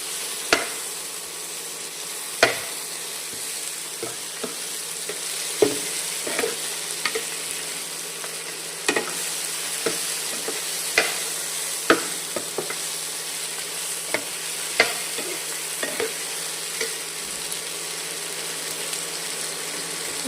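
Onion and tomato sautéing in a pan for a vallarai keerai thuvaiyal, a steady low sizzle punctuated by frequent sharp spatula taps and scrapes at an uneven rhythm.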